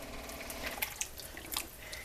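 Water poured into a pot for goulash, a steady faint splashing stream with a few small clinks and drips, close and without talk.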